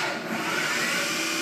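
A Haas TM2 CNC mill's 40-taper spindle runs in reverse near its 4,000 RPM top speed, giving a steady, loud mechanical whir with a broad hiss and no talk.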